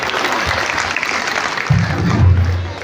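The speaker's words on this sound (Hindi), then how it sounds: "जोरदार तालियों से स्वागत करें" A crowd at a Congress party gathering applauds to welcome the state party president, with loud sustained clapping alongside a low hum and a voice briefly heard over it.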